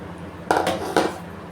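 Two quick metallic clinks ring out as rice goes into a pot for mushroom biryani, short, close and bright against a quiet kitchen hum.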